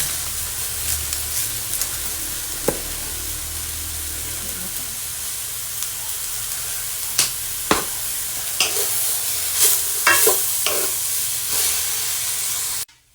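Bean sprouts with oyster sauce in a hot pan hiss and sizzle steadily while a utensil scrapes and knocks against the pan in scattered strokes, close and moderately loud, with no talking.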